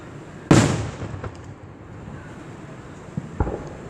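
Independence Day fireworks in Downingtown bursting outdoors: one loud, sharp boom with a trailing rumble, then a couple of fainter, more distant pops a few seconds later, with light wind noise on the microphone.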